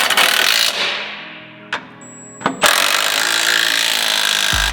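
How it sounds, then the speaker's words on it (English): An impact wrench with an 18mm socket drives track bar drop bracket bolts on a 2022 Ford F-350 Platinum getting a Stryker 4-link lift, two loud sustained whirring bursts separated by short rattling blips and a brief pause. "so I'm just gonna run these down and get it tightened up."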